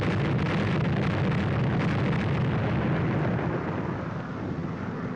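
A bomb detonates at a test site in a 1942 film, a loud sustained roaring blast with rumbling debris that fills the whole moment and slowly fades, no voices.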